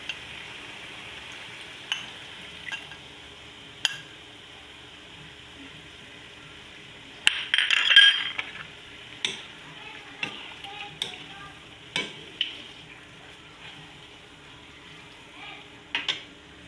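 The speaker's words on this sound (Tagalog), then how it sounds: "At ang sunod nga pala natin lalagay ay suka at toyo. Lalagay na natin." Vinegar and soy sauce go into a pan of frying chicken liver and gizzards for adobo, making a faint sizzle with scattered clicks of stirring and a brief louder splash partway through.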